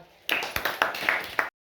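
Brief applause from a small group: about six sharp, close claps over a second, stopping abruptly.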